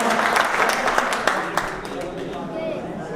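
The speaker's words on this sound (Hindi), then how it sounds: "तो इसके लिए भी आप जो है तालियां बजा दीजिए" Applause from attendees at a Soni community ceremony in Chhindwara, a dense patter of clapping that gradually thins and fades, heard under a low murmur of voices.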